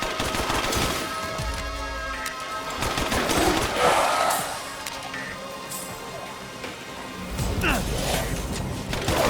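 Rapid bursts of submachine gun fire from a mid-game SMG with a drum magazine and wooden stock in Resident Evil Village, crackling loud and repeated amid game noise, with a voice talking over parts of it.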